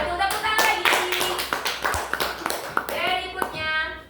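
A group of women applaud together in a classroom-style session, a burst of close, uneven hand claps mixed with voices talking and cheering over it.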